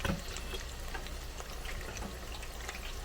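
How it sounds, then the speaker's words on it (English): Oil sizzles and crackles steadily as tempura-battered shrimp fry, with a clunk at the start. "Same time, putting it back in and frying."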